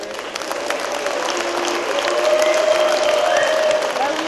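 Trade union congress delegates fill a hall with sustained applause mixed with whistles and crowd noise, steady and dense throughout, with a high sustained whistle tone rising partway through.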